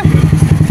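A motorcycle engine runs close by with a steady, rhythmic low throbbing pulse, about eight beats in under a second, as a man climbs onto the bike.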